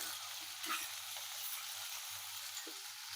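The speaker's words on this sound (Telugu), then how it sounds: "ఇవన్నీ చక్కగా అంటే మరీ ఎక్కువ కాకుండా లైట్ కలర్ వచ్చే వరకు వేయించుకుంటే సరిపోతుంది" Ingredients frying gently in a pan until lightly browned, a quiet hissing sizzle with a few soft stirring taps, close but low in level, no speech.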